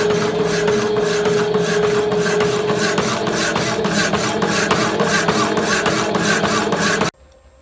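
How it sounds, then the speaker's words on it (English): A Rapidor power hacksaw cuts a metal bar to length in a workshop, a loud, steady rhythmic rasping of blade strokes close by that runs on evenly before stopping abruptly. "we'll use the Rapidor power hacksaw to cut this to length before we start"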